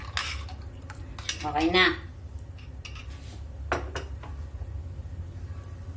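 A utensil stirs a pot of sinaing na isda, Filipino fish stew, giving close metallic scrapes and clinks against the pot, with a few sharper knocks and a brief spoken word from a voice over the steady background hum.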